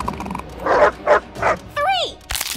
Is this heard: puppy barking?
yes